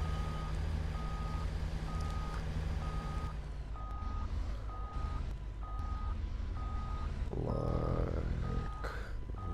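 Reversing beeps repeat at an even pace over a rumbling truck engine as a trailer is backed in during Farming Simulator 19, with a brief hiss and engine surge near the end and no talk.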